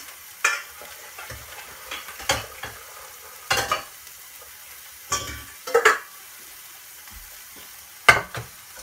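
Food fries and sizzles in a pan while being stirred, with a soft background hiss broken by several sharp scraping, clinking bursts of utensil on pan, close and alone.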